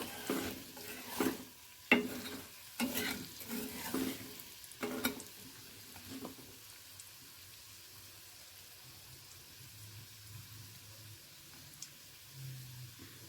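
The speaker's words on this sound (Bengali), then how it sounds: "এগুলোকে আমি খুব ভালো করে ভেজে নেব।" Chicken chop balls deep frying in hot oil, with stirring clatter and bursts of sizzle in the first half, settling into a quieter, steady bubbling hiss, no talking.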